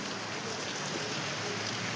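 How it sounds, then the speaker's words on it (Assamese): Steady rain falls on a hillside mountain road, a dense, even hiss of drops filling the whole stretch with no voices, close and constant throughout. "বৰষুণ পৰি আছে"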